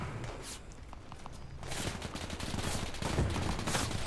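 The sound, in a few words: gunfire and RPG launch in video game Arma 3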